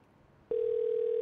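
A steady telephone tone sounds after a caller dials during a radio show, starting abruptly midway and holding at an even, loud level to the end.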